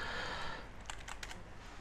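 Quiet, quick tapping on a computer keyboard while entering Linux server commands, a handful of light keystrokes clustered together over low background hiss.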